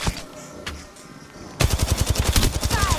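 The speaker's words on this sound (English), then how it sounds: "I'm spotted, taking fire." Video game gunfire in Bully Anniversary Edition: after a quieter stretch with a single shot, a loud, rapid automatic burst kicks in and keeps hammering close by to the end.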